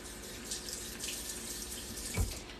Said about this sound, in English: you can rinse this underneath the water because there is a little shell part right here